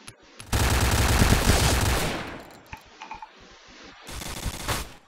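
A long, loud burst of rapid automatic fire from a shooting video game, then a lull with a few scattered shots and clicks, followed by another close burst near the end.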